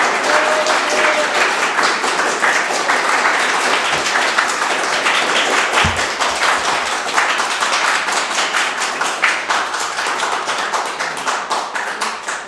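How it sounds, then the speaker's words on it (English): Attendees at a council planning committee meeting clap steadily in sustained, dense applause that fades slightly toward the end. "Kathy, I can't get in because everyone's clapping."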